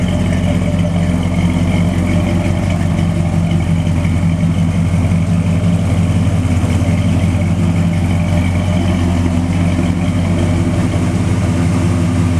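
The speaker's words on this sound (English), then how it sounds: "It's got a great exhaust note." 1965 Chevy Impala show car V8 idling with a deep, steady exhaust rumble, loud and close, a continuous low throb that holds even without revving.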